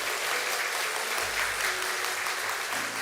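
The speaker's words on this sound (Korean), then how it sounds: "여러분 박수로 격려해 주시기 바랍니다." A congregation claps in a Presbyterian church after new members are proclaimed during a Sunday service, dense continuous applause filling the space at steady volume throughout.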